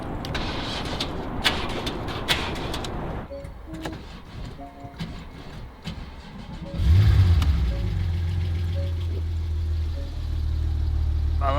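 A totaled Porsche 911 Turbo engine cranks and fires up, catching with a loud surge and then settling into a steady, raspy running note, preceded by clattering, thumping activity.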